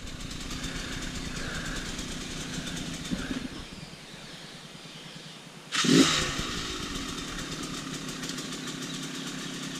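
Trail motorcycle engine idling steadily on a Hawaii riding trail, then a short loud rev burst as the bike hops over a log, settling back to a rumbling idle afterward.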